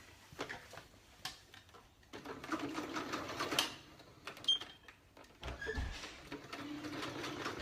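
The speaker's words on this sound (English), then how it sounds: "So I will just run it underneath my sewing machine like this." A sewing machine runs in short bursts of rapid mechanical stitching while gathering fabric for a sleeve, with brief pauses and small clicks between runs, close by.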